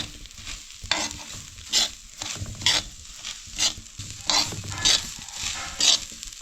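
Rice grains being stirred and scraped on a hot iron griddle, with rhythmic scraping strokes about every half second over a soft, steady sizzle.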